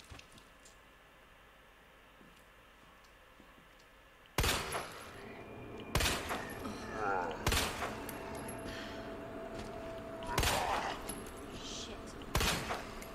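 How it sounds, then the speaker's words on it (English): Pistol gunfire in the Resident Evil 2 Remake: after a quiet stretch, about six sharp, loud shots ring out at irregular intervals a second or two apart, with game ambience and noise between them. "I do like this pistol. I think this is this is meant to be Claire's pistol from Resident Evil 2"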